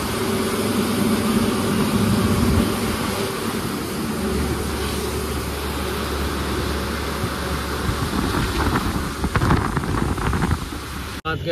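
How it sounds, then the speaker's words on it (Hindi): Heavy rain drums against a moving truck in a steady, loud wash of noise, with a low engine rumble running underneath and scattered louder patters and knocks near the end. "अभी कड़ी बारिश पड़ने लगी है"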